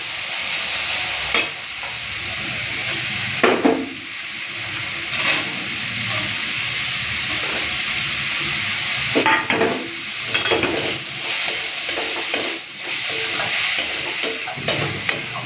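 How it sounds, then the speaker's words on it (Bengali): Red spinach stir-fries in a pan with bori and peanuts: a loud continuous sizzle broken by repeated scraping strokes of stirring at irregular intervals. "বাদাম আর বড়ি দিয়ে লাল শাক ভাজা হয়ে গেছে"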